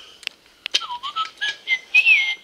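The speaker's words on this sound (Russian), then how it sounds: "Не свисти дома," Someone whistles a short, wavering tune close up, with a few sliding notes after some quick clicks at the start.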